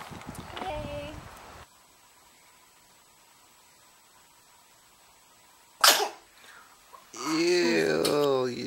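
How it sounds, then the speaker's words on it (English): A baby sneezes once, sharp and close, after a long quiet stretch, then fusses with a whiny cry; an adult voice is heard at the start. "You just sneezed it, and all that spit"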